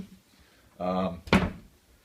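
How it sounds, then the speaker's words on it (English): A drawer being opened, a short scraping slide followed by a sharp knock, close and fairly loud in a quiet room. "More drawers. It's kind of a unique size drawer."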